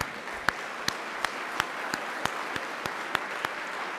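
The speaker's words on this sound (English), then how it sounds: "I'd like to give all our candidates another round of applause." Audience at a civic association candidates night applauding its candidates, a light, steady patter of clapping from a smallish crowd with a few sharp, louder claps standing out nearby.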